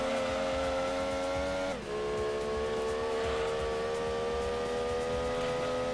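Mazda Miata Roadster in Gran Turismo 2 pulling away, a steady engine drone with layered harmonic tones that dip briefly as it shifts, then climb and hold at a loud, constant level.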